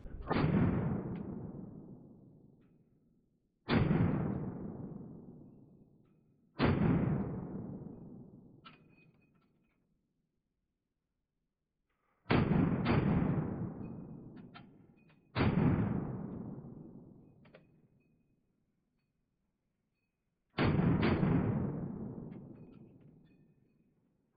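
Six sharp shots from an Excess Arms Micro Dagger pistol, fired one at a time with gaps of a few seconds, each a loud crack with a long decaying ring, with no talking.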